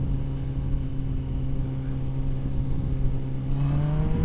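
A motorcycle pulls hard in second gear from 40 toward 100 mph, its engine note droning loud and steady with a rising pitch near the end amid rushing wind.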